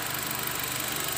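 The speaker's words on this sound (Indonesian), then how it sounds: "Ini suara mesinnya masih halus teman-teman." A used car's engine runs smoothly at idle during an inspection, a steady close hum with no change in pitch, heard alone.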